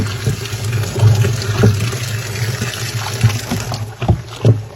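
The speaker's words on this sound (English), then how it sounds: "ukutitiela will be pouring boiling hot water into this fermented mix" Boiling hot water being poured into a fermented umqombothi mix of sprouted sorghum and maize meal, giving a gurgling, sloshing liquid sound with splashes that swell and fade, close up and without talking.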